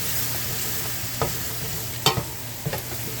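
Mushrooms frying in butter in a pan give a steady close sizzle, broken by a few sharp scrapes and clinks of stirring.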